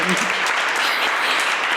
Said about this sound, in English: I'm going to ask you to join me in a round of applause for the speakers already